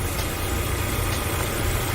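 A 2021 Subaru Crosstrek Sport idles with a steady, low, even rumble that runs unbroken from start to finish, close by and with no voices.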